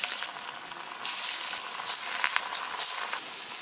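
Spinach vadai frying in hot oil, a steady close sizzle and crackle with brief louder bursts as pieces shift in the pan, no talking.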